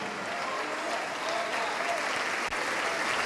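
A church congregation applauding during a worship service: dense, steady, close applause that fills the whole moment without pause.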